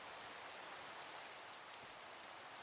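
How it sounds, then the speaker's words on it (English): Rain falls in Minecraft, a steady, soft, even hiss of drops with no other sounds over it. "it is a rainy start to our day"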